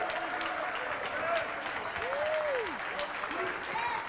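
Audience applause at a political convention, fairly faint and steady clapping running throughout, with a voice calling out over it partway through.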